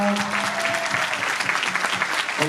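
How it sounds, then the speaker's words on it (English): Audience applause at a high school alumni panel, a dense steady clapping from a seated crowd lasting throughout, with some faint voices mixed in underneath. "Round of applause."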